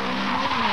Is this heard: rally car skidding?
yes